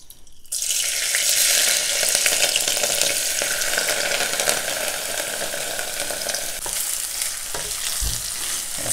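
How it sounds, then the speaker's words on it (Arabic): Rice dropped into hot melted butter and oil bursts into a loud, steady sizzle that continues close by, with occasional stirring sounds and no talk. "واول لما تسخن معانا هننزل عليهم بالرز بتاعنا."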